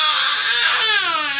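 An infant cries loudly and close by, with a rising and falling wail that carries on without a break.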